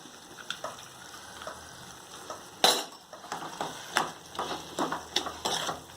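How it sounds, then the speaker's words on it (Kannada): A spoon stirs cooked moth beans into spices in a pan, giving a series of scraping, clinking strokes over a faint sizzle, close and irregular. "ಚೆನ್ನಾಗಿ ಮಿಕ್ಸ್ ಮಾಡ್ತೀನಿ."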